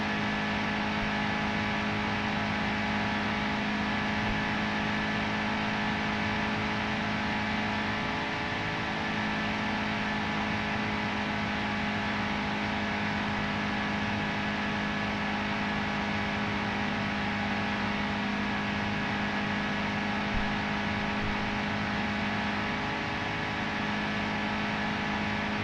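A NASCAR stock car's engine holds a steady high-rev drone around 7,000 RPM at Daytona Speedway in NASCAR Heat 2, continuous and loud with only slight pitch dips through corners.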